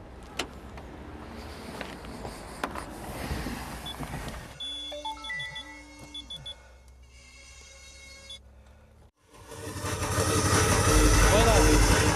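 A car engine starts and settles into a loud, rumbling idle near the end, after a stretch of beeps and electronic tones, with people talking throughout.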